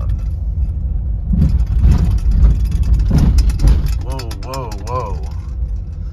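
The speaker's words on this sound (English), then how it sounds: "your car starts making noises and you realize that your check engine light just came on" A car engine rumbles and labors nearby in a desert, with uneven revving and a warbling whine near the end as the check engine light comes on; a voice talks over it.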